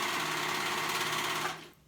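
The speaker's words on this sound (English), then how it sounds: "Make sure that everything else is out of the way when you're sewing that hood on." A sewing machine stitching a hood onto a nightfall cape, a steady fast whirring hum running loud and close before cutting off near the end.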